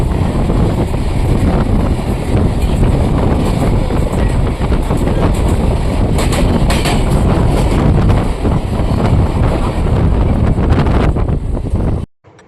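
A local train running out of Howrah rumbles loudly and continuously with heavy wind buffeting the microphone, a dense steady roar that cuts off abruptly at the end.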